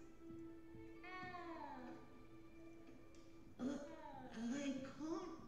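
A cat in the Hogwarts Legacy video game gives several drawn-out meows, close and clear, under a low steady game tone and brief speech.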